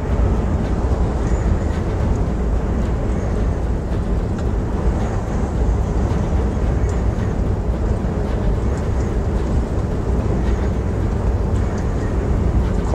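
Strong wind roars and buffets around a high-sided Scania HGV truck cab on the road, a dense, continuous rumble and rush of air mixed with steady road noise, loud and unbroken throughout.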